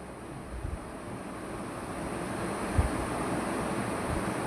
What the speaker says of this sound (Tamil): இப்போ நம்ம எண்ணெய் சூடேறிடுச்சு. இப்போ கடலைப்பயிறு சேர்த்துக்கலாம்.